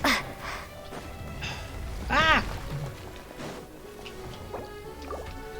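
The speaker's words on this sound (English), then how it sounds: "Water jet." A water jet attack in Genshin Impact bursts out with gurgling, splashing liquid effects, including one sharp ringing swell, layered over ongoing game sounds and faint voices.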